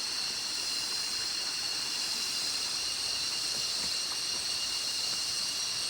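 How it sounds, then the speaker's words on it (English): Insects such as cicadas drone in a steady, high, hissing buzz throughout a tropical forest on a waterfall hike in Phu Quoc, continuous and fairly loud with no voices. "Like cicadas or something."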